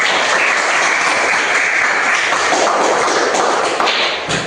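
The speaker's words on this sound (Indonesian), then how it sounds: "tepuk tangan dulu untuk semua" A class of schoolchildren claps together during an elementary mathematics lesson on fractions, a dense, loud, steady patter of hands that carries on for several seconds and thins out slightly at the end.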